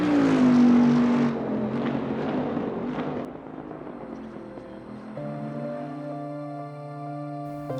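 A GT3 race car engine in the video game Assetto Corsa Competizione roars with a sustained high drone that drops in pitch, then settles into a steady idling hum.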